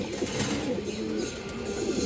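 A Muslidom pigeon coos softly in low, rolling murmurs against a faint background hiss.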